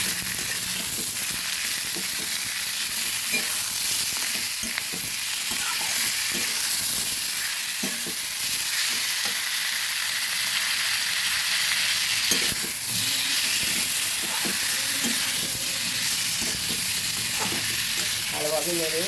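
Snake gourd (chichinga) and egg frying in a pan give a steady, close hiss and sizzle, with occasional scraping from stirring throughout.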